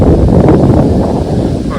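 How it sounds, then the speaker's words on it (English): Steady wind buffeting the microphone by a lake on a morning, a constant low rushing roar that stays loud and unbroken throughout, with no speech. "A little windy this morning"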